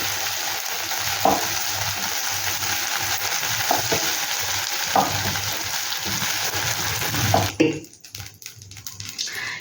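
Okra fries in a pan, a close, continuous sizzle with occasional stirring knocks, ending in clatter as the pan is handled and the hiss drops away.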